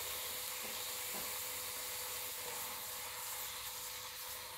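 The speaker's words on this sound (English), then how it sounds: "Don't stick your hands directly in steam because steam is hotter than boiling water." Steam hisses steadily from a Breville Thermal Pro non-stick electric frypan, a soft, continuous broadband rush heard close by with no talk over it.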